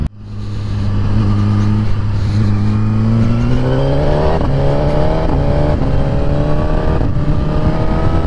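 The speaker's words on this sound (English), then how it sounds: "I do love that quick shifter and blipper on this." Suzuki GSX-R1000R sportbike accelerating hard, its loud, close engine note climbing steadily through the gears with the quick shifter and blipper cutting in for brief dips between rising pulls, continuous throughout without talk.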